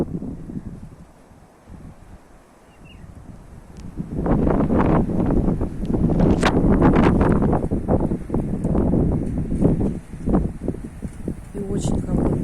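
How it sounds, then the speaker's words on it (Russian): Strong, cold wind blowing in gusts outdoors: quieter at first, then a loud, roaring rush arrives and keeps buffeting the microphone. "Слышно, как идет ветер."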